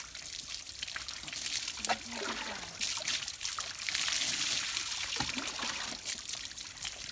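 Water trickles and pours over a puppy during a bath, a soft, uneven splashing stream with small drips and gurgles, fairly faint and close, running throughout.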